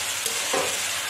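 Jackfruit sautéing with spices in a pan, a brief burst of dense, close frying sizzle with a quick stirring scrape.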